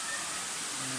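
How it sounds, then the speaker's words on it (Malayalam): The first cascade at Thusharagiri waterfalls flows as a steady, even rush of falling water, heard alone. "ഒന്നാമത്തെ വാട്ടർഫോൾസ്."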